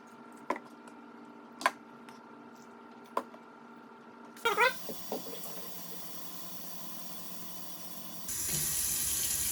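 Water and a floor cleaning solution poured into the tank of a Hoover Floormate Deluxe hard floor cleaner, a steady liquid stream after a few sharp ticks and clicks, growing louder near the end, close by.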